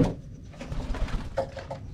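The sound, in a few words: pigeons cooing in breeding loft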